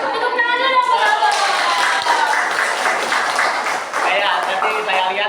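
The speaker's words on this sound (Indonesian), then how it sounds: "Tepuk tangan dulu dong." An audience claps hands during a morning group presentation in a room, sustained applause lasting about five seconds, loud and close, with voices mixed in.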